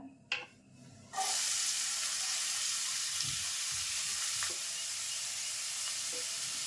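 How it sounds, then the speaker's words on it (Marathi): Onion dropped into hot oil in a pot for a Malvani dish, a few soft knocks and then a sudden loud, steady hiss of sizzling that holds until the end. "तेल तापलं ना की आपण कांदा टाकून घ्यायचा पहिला"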